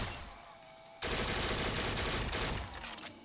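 Powerful weapon fired in a video game, a loud sustained burst of rapid gunfire that cuts in abruptly after a quieter second and then fades, with no talking.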